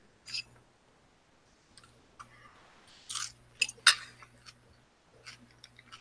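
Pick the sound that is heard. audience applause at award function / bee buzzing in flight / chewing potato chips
chewing potato chips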